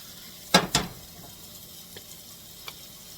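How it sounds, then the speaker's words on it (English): Garlic sautés in a pan with a low, steady sizzle. Two sharp clatters come close together near the start, then a few faint ticks follow, with no talking. "And just let those saute till they get"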